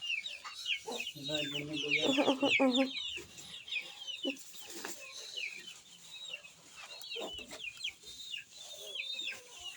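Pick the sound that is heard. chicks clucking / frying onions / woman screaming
chicks clucking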